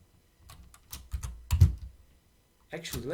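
Keyboard typing of a command in a Windows terminal for running local language models, heard as scattered bursts of clicking keystrokes, close and moderately loud, ending with a short stretch of speech.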